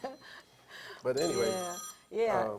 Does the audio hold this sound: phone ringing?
yes